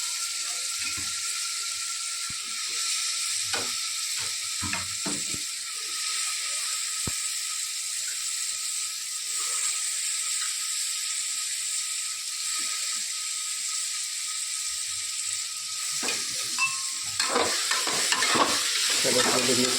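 Cauliflower and potatoes sizzle in a hot pan while cooking for a North Gujarat tuver totha dish, a steady close frying hiss with scattered soft stirring knocks that grow busier near the end.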